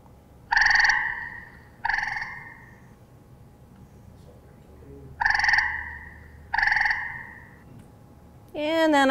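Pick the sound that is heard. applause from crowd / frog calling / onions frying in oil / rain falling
frog calling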